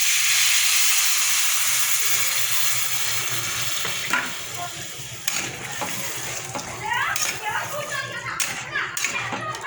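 Water poured into a hot pot of browned khichuri mixture sets off a loud hiss that slowly fades, followed by bubbling and stirring clatter.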